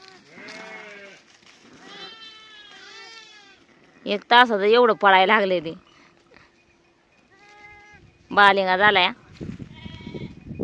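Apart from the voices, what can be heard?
sheep bleating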